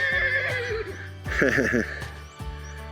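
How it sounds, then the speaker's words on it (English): A horse on a rural road in Peru neighs loudly nearby, a shrill wavering whinny repeated a couple of times, with a voice talking over it. "And you can see, here's a horse."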